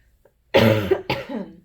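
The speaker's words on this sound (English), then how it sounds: "bear with me as I cough throughout the reading" Two harsh coughs from someone recovering from a cold, close and loud, the second slightly shorter, with no talking.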